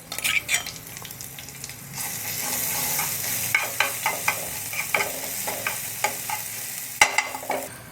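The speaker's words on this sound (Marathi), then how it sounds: "मस्त फ्राय झालं आहे लसूण" Crushed garlic with fennel seeds frying in a pan as an onion and bitter gourd dish is cooked, a steady close sizzle broken by repeated scraping stirs of a spoon against the pan.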